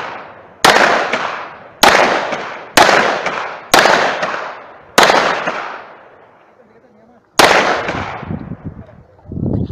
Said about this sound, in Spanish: Listo, último disparo.